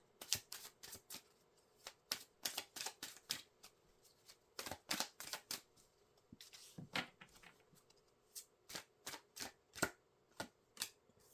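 Oracle cards from a Mystic Forest deck being shuffled, a long run of crisp, quick riffling bursts in irregular groups, close and fairly quiet, with no voices.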